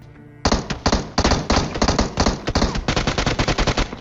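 Rapid automatic gunfire from a shooting video game, loud and close, firing in dense bursts of repeated shots with short gaps, no talking over it.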